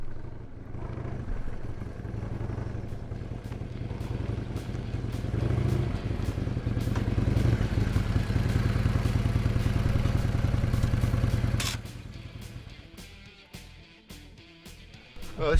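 A Harley-Davidson motorcycle rumbles along while being ridden, its steady engine drone building in loudness, then easing off with some clatter near the end.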